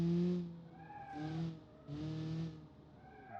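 A Kiev Motors car in BeamNG slides sideways under e-brake, tires squealing in three long bursts with engine revving between them, close and fairly quiet.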